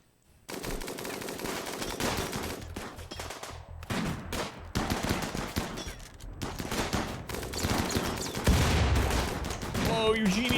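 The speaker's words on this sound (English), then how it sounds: "Triple rocket launcher." A triple rocket launcher fires in a video game amid dense, continuous barrages of loud blasts and automatic fire that build and surge over several seconds, with heavier booms toward the end.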